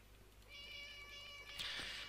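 A cat meows in a Garry's Mod cat-shooting mod: a single drawn-out, close, tonal meow lasting about a second, followed by a brief clicky burst, over a faint steady background hum.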